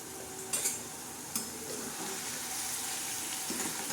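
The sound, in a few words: flipping fenugreek-potato stir-fry (methi bhaji) in a pan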